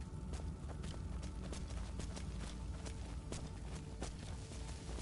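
Horse hooves clip-clop at a running pace in the video game Skyrim, a steady stream of soft thuds set against a dense, constant game ambience.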